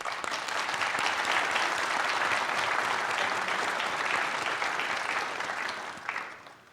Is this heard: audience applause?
yes